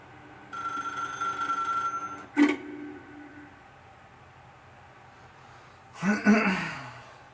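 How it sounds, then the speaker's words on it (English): A telephone rings in The Stanley Parable Ultra Deluxe, a sustained electronic ring lasting about two seconds, followed later by a short burst of another sound, with the game's quiet ambience between. "Now pick up the phone."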